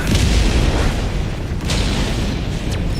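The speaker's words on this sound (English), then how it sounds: "Orbital barrage incoming." Orbital barrage explosions in the video game Helldivers 2: continuous heavy rumbling booms blend into a loud, dense roar, with sharper blasts cutting through every second or so and no voices.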